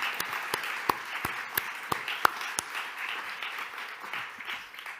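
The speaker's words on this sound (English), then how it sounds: "this work really merits a strong applause" Audience applause at a European heritage forum, with sharp individual claps standing out near the start before blending into a softer, steady patter that gradually thins.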